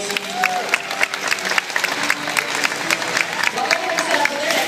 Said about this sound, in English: Give another round of applause, folks.